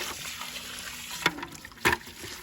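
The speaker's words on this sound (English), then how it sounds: "So we give it just a quick swish and then fill it with warm water." A warm-water spigot fills goat water bowls at a farm during evening chores, making a soft, faint trickle with two brief louder splashes, and no voices.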